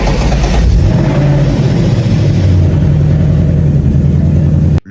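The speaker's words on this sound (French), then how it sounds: "Le moteur démarre en douceur avec un son calme et régulier." A rebuilt, accident-damaged Ford Mustang's engine, just fitted with cleaned injectors and fed by an external battery charger, catches and runs: a loud, close, calm and even low rumble that cuts off abruptly at the end.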